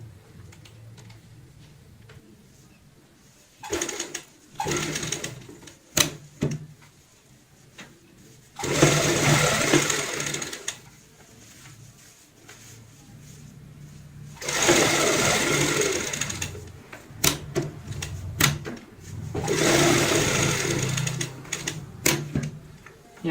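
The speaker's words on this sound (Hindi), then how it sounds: "अब हमें यहाँ पे सिलाई लगानी है।" A sewing machine stitches a heart-shaped cushion cover in three main bursts of fast, even needle whirring, separated by pauses with a few brief clicks and handling noises.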